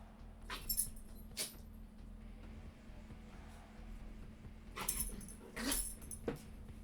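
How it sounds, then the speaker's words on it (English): A small dog makes several short whimpers and low growls at close range, in scattered bursts over a steady hum, with no voices. "I've got a small dog that I am dog sitting right now. Doesn't get along very well with my dog"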